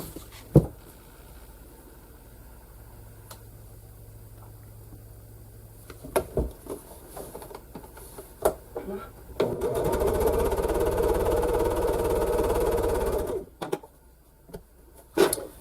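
Sewing machine stitching quilt pieces together for a floral zig zag quilt top, with a few sharp clicks and handling knocks before a steady mechanical whirring run of about four seconds, then stopping with more clicks.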